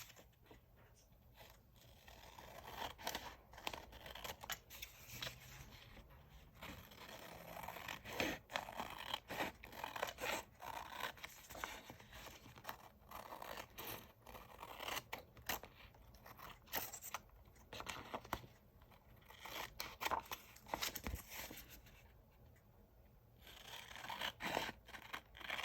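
Scissors cutting through paper for a junk journal bookmark, a steady run of crisp snips and papery scraping at close range, sometimes with faint crinkling, continuing throughout with no talking.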